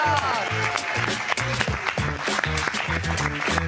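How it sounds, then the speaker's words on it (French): Studio audience applauding chef Norbert Tarrer on a French television show, the clapping mixed with loud rhythmic music and brief shouts. "Merci d'applaudir l'exceptionnel Norbert Tarrer."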